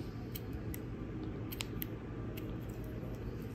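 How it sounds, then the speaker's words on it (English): Scissors cut crochet thread during work on a crocheted bandana top, giving a few faint, quick snips over steady low room noise, with no talking. "grab my scissors, and I'm gonna cut this off"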